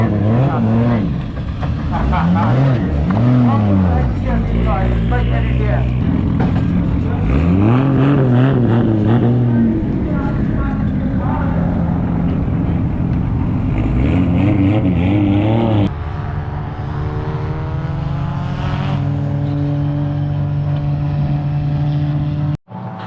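A drift car on a track with its drivetrain being warmed up before a drifting session: a loud, close engine revs and rises and falls in pitch repeatedly, then settles into a steadier drone that cuts off abruptly at the end.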